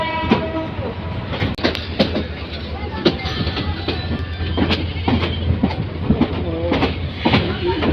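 The Dhaka Mail train rolls into Kamalapur railway station, a continuous loud rumble with wheel clatter and sharp metallic clanks along the platform, joined by faint voices in the background.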